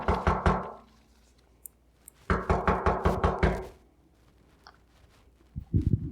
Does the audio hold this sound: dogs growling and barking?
no